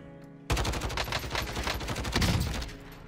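Rapid automatic gunfire in the video game Call of Duty: Modern Warfare, Plunder mode. A loud sustained burst of dense shots starts abruptly after a quiet moment and keeps going with no talking over it.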